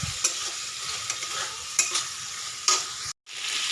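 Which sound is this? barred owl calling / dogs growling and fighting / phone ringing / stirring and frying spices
stirring and frying spices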